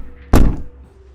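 A door in a horror short film thuds once, loud and close, with a short rumbling decay and faint background hum, no voices.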